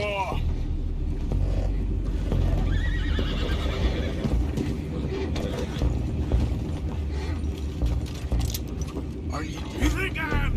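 Horses whinny a few times over a busy rumble of hooves and clattering machinery in Red Dead Redemption 2, with brief voices mixed in.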